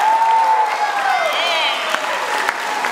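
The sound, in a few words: audience applause for a band performer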